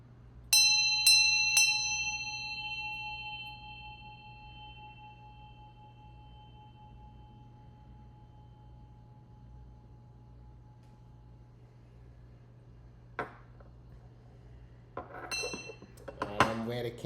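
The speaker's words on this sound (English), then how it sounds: "I'm gonna ring this bell a few times, kind of clear the vibes" A small bell struck three times in quick succession at the start, each strike ringing out clear and bright before fading slowly into a quiet room, followed later by faint clinks and handling noises.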